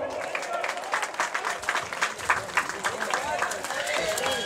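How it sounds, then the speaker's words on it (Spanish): Crowd applause at a jineteada rodeo event in Nueva Londres, steady mid-level clapping spread across a large outdoor audience, continuing throughout. "pido un fuerte aplauso"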